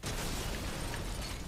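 Small bombs going off in the survival horror game Resident Evil Village: a loud, sustained burst of blast noise with dense low rumble filling the whole moment, no voices over it.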